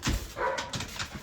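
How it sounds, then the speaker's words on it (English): A pet dog barks and yaps excitedly indoors during watering of onion seeds, several sharp bursts close by at moderate loudness. "That is my dog acting like a fool."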